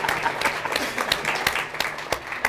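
Applause at an evening event at the Dole Institute of Politics, University of Kansas, with scattered individual claps standing out over a steady wash of clapping for a little under three seconds.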